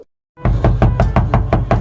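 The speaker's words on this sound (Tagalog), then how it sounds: "Buksan mo itong pinto! Ngayon din!" Loud knocking on a door, about eight firm, evenly spaced raps in steady rhythm after a brief silence, close and alone with no talk.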